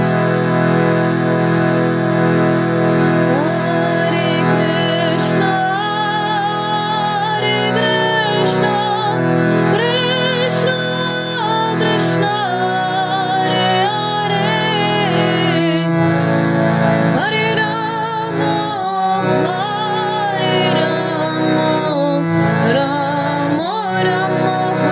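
A harmonium holds steady reed chords beneath a voice chanting the Hare Krishna Maha Mantra to a repeating devotional tune. The playing is continuous, loud and close, with no pauses.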